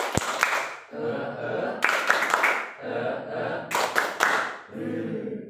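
A group does a rhythmic spirit clap in repeated bursts of sharp claps, with short pauses between the sets where voices chant and talk.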